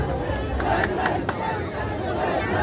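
A crowd of Govinda teams cheers and shouts in heavy rain during a Dahi Handi human-pyramid festival in Jogeshwari, Shyamnagar, a dense steady roar of many voices with several sharper whistles or cries rising above it.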